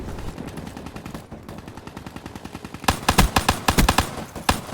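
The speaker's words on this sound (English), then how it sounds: "So many shots." Rapid pistol gunfire in a Call of Duty Black Ops 3 match comes first as a steady string of shots. It turns into louder, sharper bursts of close shots in the last couple of seconds.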